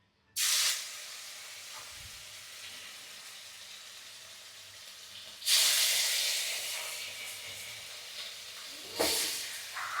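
Fish dropped into hot oil for frying, giving a loud, steady broadband hiss that surges sharply twice more as pieces go in, close by with no voices.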